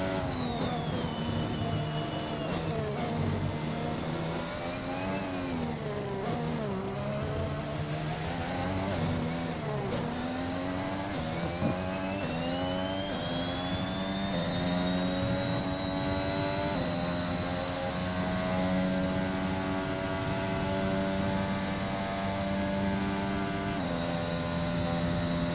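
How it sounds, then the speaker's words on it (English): An F1 2021 race car engine with an engine problem drones at steady, strained pitch, barely revving out in high gear; a continuous loud whine with slight pitch dips and rises over half a minute. "Car is not even revving in 8 at all."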